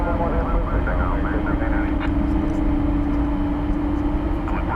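A jet airliner in American Airlines service wearing retro America West livery at DFW Airport at night, a steady engine roar filling the scene with a droning tone.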